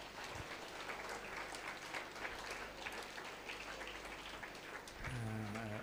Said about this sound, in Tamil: எல்லாம் கைத்தட்டிடுங்க